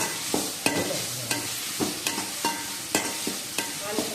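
Crab gravy base being sautéed in a pan, with a spoon stirring and scraping in a steady rhythm of sharp clinks over a soft, continuous sizzle, close and alone without talk.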